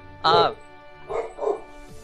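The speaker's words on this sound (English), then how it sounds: "my dog is going crazy" A dog barks out of sight, apparently at someone out front, during an indoor conversation: one loud bark burst, then two quieter ones a moment later, with voices talking in the background.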